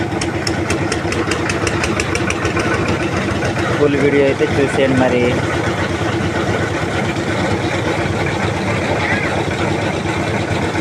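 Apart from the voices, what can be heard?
concrete mixer engine starting and running at building site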